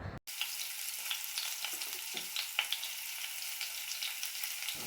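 Green chilli and curry leaves fry in a pan and are stirred while a tender jackfruit cutlet mixture is prepared. An even, bright sizzle carries a few soft scraping strokes, close and without talk.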